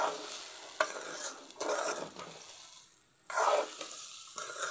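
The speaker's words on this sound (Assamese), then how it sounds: "তাৰপৰা মই ধুনীয়াকৈ এতিয়া লৰাই ল'ম।" Khichdi with salt and turmeric being stirred in a pot, giving short bursts of scraping and light sizzling separated by brief quieter pauses, close and moderately soft.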